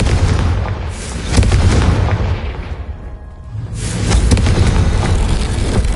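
A Confringo spell explodes in Hogwarts Legacy, booming loudly with a dense roar that dips briefly into near quiet before a second heavy burst swells back up.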